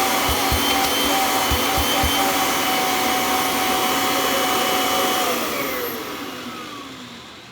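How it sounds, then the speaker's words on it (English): A Kirby G4 upright vacuum cleaner runs loud and close with its hose attached, a steady high whine over a roaring motor, then the motor winds down, the pitch falling and the noise fading toward the end. "you also notice the pitch difference when I put the hose on."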